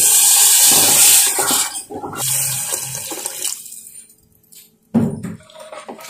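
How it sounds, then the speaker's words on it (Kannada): Water rushes loudly into a mixer jar for a couple of seconds, then trickles and fades to near silence before a short splash. "ನೀರು ಆ್ಯಡ್ ಮಾಡ್ತಾ ಇದ್ದೀನಿ"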